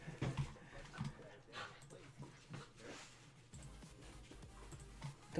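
Dogs whimper and pant with occasional yips at close range, a steady mix of small canine sounds running through the whole stretch, with low room noise underneath and no clear talk.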